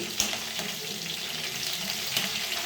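Ingredients for Sankranti kalagura curry frying in a pan, a steady soft sizzle with a couple of faint spoon clinks, close and fairly quiet.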